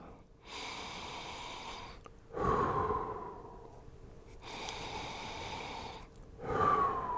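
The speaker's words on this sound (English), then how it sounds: "breathing in." A person breathes in and out deeply and slowly, close to the microphone, with two long cycles of airy inhales followed by heavier exhales.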